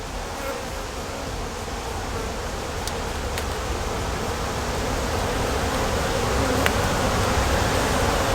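Honey bees swarm around an opened hive full of brood frames, a dense, continuous buzzing drone that swells slightly louder toward the end, with a few faint clicks.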